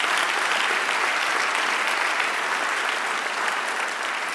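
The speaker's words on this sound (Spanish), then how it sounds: "Dale un aplauso al Señor." A church congregation gives loud, continuous applause, a thick wash of many hands clapping at once that holds steady from start to finish without voices on top.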